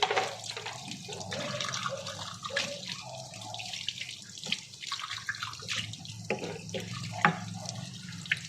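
An old white tea cup is rinsed under a running tap at a basin, with close, splashing water and a few small clinks as the cup is handled.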